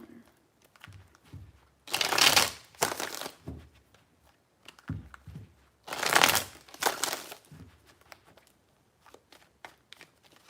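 Tarot cards shuffled in two bursts of rapid riffling and crinkling, each lasting about a second, with soft handling rustles and taps in between, close and fairly quiet.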